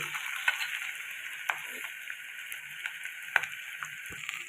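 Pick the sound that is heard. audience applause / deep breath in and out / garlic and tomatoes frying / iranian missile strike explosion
garlic and tomatoes frying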